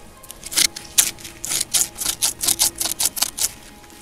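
Old metal sheep shears, dug up from the ground, snip open and shut in a quick rhythmic series of about a dozen close, sharp clicks.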